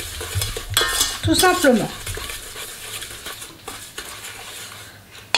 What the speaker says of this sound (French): On vient un peu mélanger pour faire que le sucre soit mouillé.